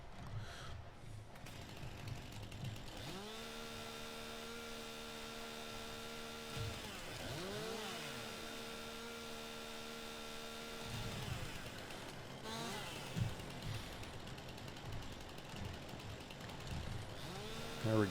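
Forestry machine in Farming Simulator 19 trims cut trees, a droning engine with whining tonal motor sweeps that rise, hold and drop in repeated cycles, mechanical clanks between, steady and close with no talk.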